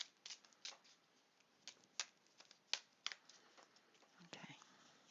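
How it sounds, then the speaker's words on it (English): Quiet riffling and soft slaps of tarot cards being shuffled by hand, in short irregular bursts, close and faint. "I should be shuffling here"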